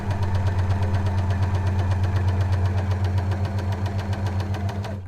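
An overlocker serger stitches along fabric edges, its motor humming steadily with fast, even mechanical ticking running throughout at close range, moderately loud, with no voices.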